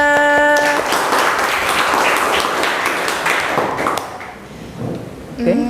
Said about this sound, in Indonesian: Tepuk tangan untuk Octavia.